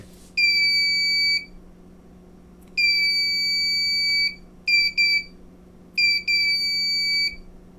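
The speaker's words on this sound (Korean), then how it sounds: "지금처럼 부저를 이용해서 쓰러졌을 때 알림을 주는" A shrill piezo buzzer alarm triggered by an SW-520D tilt sensor on an Arduino sounds in four bursts, two long tones then paired shorter beeps, loud over a steady low hum.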